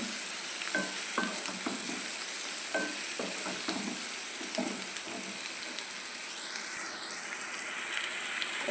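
Onions fry in a pan with salt, making a steady close sizzle with scattered stirring clicks and scrapes early on, then an even hiss.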